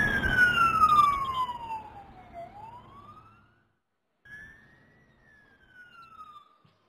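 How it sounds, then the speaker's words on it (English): A siren marks the end of question time at a youth summit: a loud rising and falling wail that glides down then back up, breaks off briefly, and returns fainter with another sweep. "what you just heard was the siren because the time is up."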